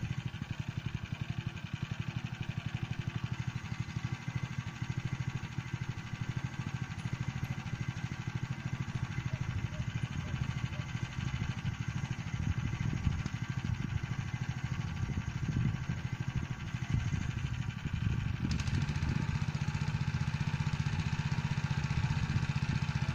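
Small gasoline Motor Sich walk-behind tractor engine runs steadily during millet sowing in a field, a continuous mid-pitched drone with a constant rhythm and a brief shift in tone near the end.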